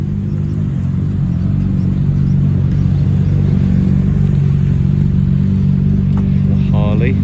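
A Harley-Davidson Sportster motorcycle's engine rumbles loudly and steadily nearby on a street in Japan, a thick low drone that holds throughout, with a person talking over it.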